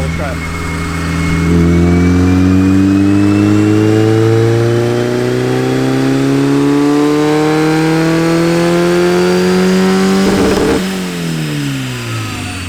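A stock Mazda Miata fitted with a CX turbo kit revs hard. The engine climbs steadily in one long, loud pull, then drops off sharply near the end before settling.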